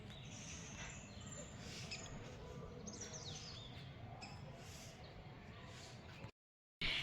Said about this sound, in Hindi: चिड़ियों की इतनी प्यारी प्यारी आवाज़ें आ रही हैं।